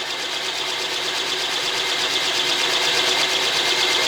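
A lathe running at speed during steady rest repair work, giving a continuous, even high-pitched mechanical whir with a slight rise in level, close and alone without talk.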